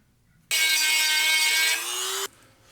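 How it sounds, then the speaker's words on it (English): A power grinder bites into the rivets of a motorcycle chain for nearly two seconds, a loud, close, high-pitched whine that dips slightly in pitch before cutting off abruptly. "We're going to grind those rivets out."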